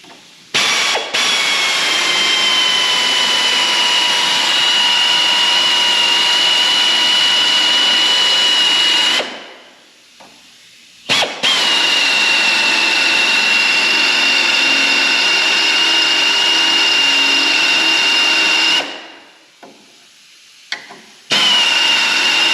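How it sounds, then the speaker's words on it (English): A power drill bores through metal near a car radiator while aftermarket AC is fitted, two long, loud, whining runs of steady pitch separated by brief pauses, close up. "can we drill through this without poking a hole in the radiator?"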